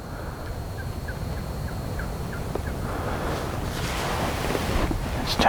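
A wild turkey hen calls in a row of short, evenly spaced yelps out in the open, faint against steady wind noise buffeting the microphone.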